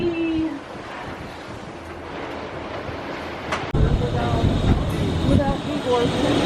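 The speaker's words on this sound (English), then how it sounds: "Yeah, we're feeling the wind." Wind buffets a swaying Disney Skyliner gondola cabin, a steady broadband rush with a sharper gust surge midway, loud and close throughout.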